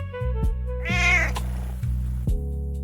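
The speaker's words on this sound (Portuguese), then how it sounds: "recebendo em troca um miado curto e ingrato" A cat gives a short, bright meow over a low, steady tonal hum, with a few soft knocks around it.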